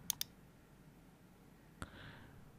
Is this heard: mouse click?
yes